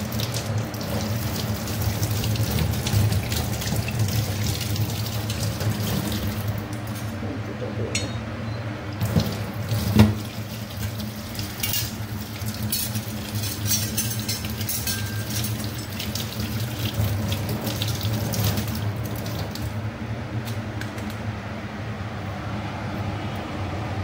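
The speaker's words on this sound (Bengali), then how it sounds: "হাতটা ধুয়ে নিই।" Hands being washed under a running kitchen tap, a steady loud stream of water lasting the whole time with a brief splash near the middle, no talk.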